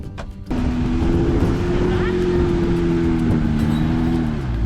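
A Hemi-powered Jeep JK crawls up a boulder obstacle off-road, its engine holding a steady, close, loud rumble after a brief quieter moment at the start.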